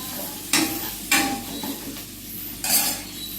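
Curry leaves and ginger dropped into hot oil, giving a few bright sizzling bursts with brief stirring and clinks of a pan, close and loud, no talking.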